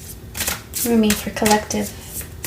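A deck of cards is shuffled in quick riffling bursts while a person speaks briefly over it.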